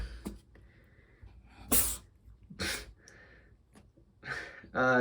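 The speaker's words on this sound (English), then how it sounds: "Guest appearance of River the Sneezing Cat, I guess." A cat sneezes a few sharp, loud times one after another with short pauses between, each a quick explosive puff of breath.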